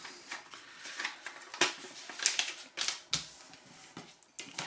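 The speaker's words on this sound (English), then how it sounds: "just cut it into 8ths" A hand cutter slices material into eighths, giving a string of sharp clicks and crisp snips at an irregular pace, close by and fairly quiet, with no voices.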